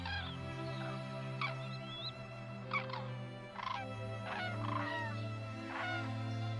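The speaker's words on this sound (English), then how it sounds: "The arrival of cranes in the winter is a most heralded event." Wintering cranes call in the Badajoz countryside, a series of loud, throaty trumpeting cries in scattered bursts over a low steady background hum.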